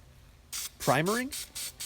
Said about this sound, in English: I'm going to spray them with Self Etching Primer by Duplicolor.